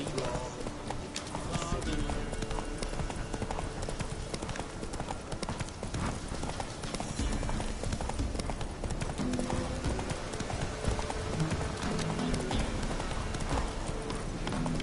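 Roach the horse gallops in The Witcher 3, a steady run of clip-clop hoofbeats carried under dense game music and ambience, with voices speaking over it throughout.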